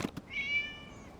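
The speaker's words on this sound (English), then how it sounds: "It was just a cat." A cat in the video game Genshin Impact gives a single short, clear meow with a rising tonal cry, preceded by two soft taps, fairly quiet and heard alone.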